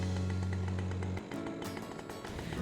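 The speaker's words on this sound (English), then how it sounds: "You can use the guide on the top of the chainsaw to line up the cut." A chainsaw runs loud and steady while cutting an open-faced notch into a standing tree, its engine drone shifting partway through as the bar bites into the wood.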